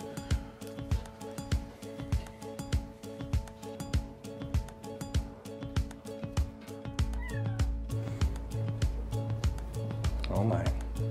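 Tiny kittens meow again and again in quick, regular bursts, close and fairly loud, while people talk quietly in the background.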